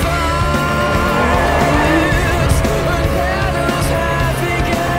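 A car driving in the video game Need for Speed Most Wanted, a steady engine drone with hints of tire squeal running continuously and loud under a layered game soundtrack, with no talking.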